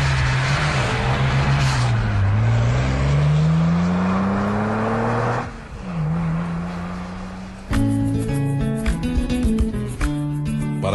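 Car engine revving and pulling away, a loud close rising and falling whine as it accelerates through gears, dipping midway before music-like tones take over the remainder.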